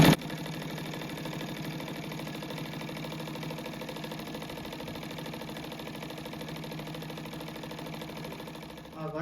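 A sewing machine stitches a second seam beside the first on a simple fabric laundry rug, its needle chattering in a steady fast mechanical run that holds close and even until it slows and stops at the end.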